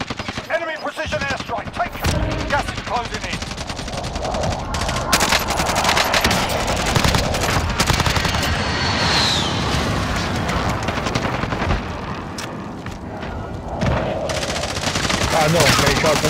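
Gunfire in a Warzone battle royale game, loud rapid automatic bursts and repeated shots with occasional booms, near and continuous, with a voice talking over the fire at times.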